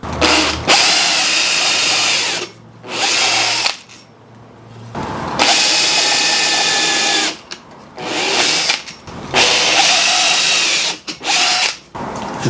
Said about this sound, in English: you're going to have to drill obviously a small hole above each of the openings